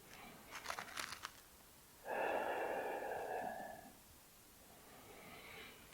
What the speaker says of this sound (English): getting deep, low belly breathing